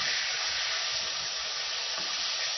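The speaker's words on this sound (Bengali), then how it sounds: "এগুলো আরও বাকি মাছগুলো ভেজে নেবো।" Rohu fish pieces frying in hot oil give a steady, close, even sizzle that carries on without pause for the whole stretch.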